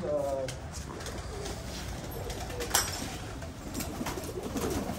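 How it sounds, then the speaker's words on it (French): Soft, low cooing of two-month-old young pigeons in Marrakech, Morocco blending with a steady background hum, with a brief sharper sound partway through. "c'est des jeunes pigeons de 2 mois."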